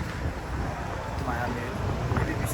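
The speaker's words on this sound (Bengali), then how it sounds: "যদি বৃষ্টি পড়বে এই জন্য এত বাতাস, নাহলে অনেক গরম থাকে। সো প্রচণ্ড বাতাস।" Strong wind blows at night along Ocean Drive in Miami before rain, a continuous loud rushing buffet that stays close on the microphone throughout.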